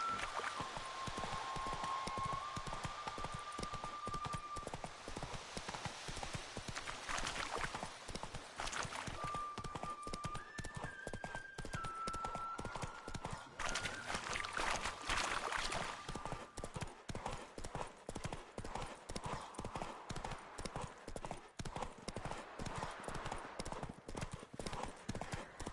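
Geralt's horse Roach galloping in The Witcher 3, a rapid continuous drumming of hooves close up that runs throughout with steady rhythm, over faint game ambience and music tones.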